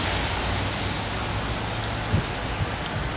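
Light rain on a street in Kastamonu's Saraçlar neighbourhood, a dense, even patter of drops filling the whole stretch with a couple of faint nearby knocks and no talking.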